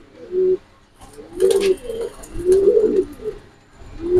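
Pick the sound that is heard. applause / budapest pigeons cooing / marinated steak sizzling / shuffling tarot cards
budapest pigeons cooing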